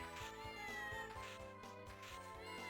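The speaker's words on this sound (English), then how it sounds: "So this is a cat." A cat in the Castlevania: Order of Ecclesia video game gives several drawn-out, tonal meows over a rhythmic in-game music backing, fairly faint and alone without any talking.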